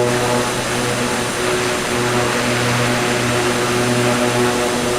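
Steady propeller aircraft engine drone heard from inside a small plane's cabin, a continuous loud hum with a slight dip in tone as the throttle is eased back, no voices.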